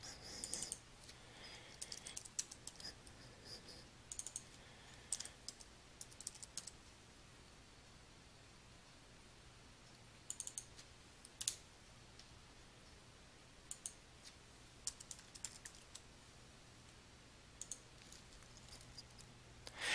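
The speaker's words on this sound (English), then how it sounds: "as you make the corrections using your keyboard." Computer keyboard typing while making text corrections in Adobe Acrobat: soft, sparse keystroke clicks in short irregular bursts separated by pauses, faint and close, with no talking.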